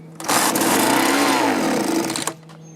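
A small two-cycle blower or trimmer engine, fitted with a newly replaced carburetor and running on half choke, buzzes loudly and steadily for about two seconds with a high-pitched whine, then cuts off abruptly.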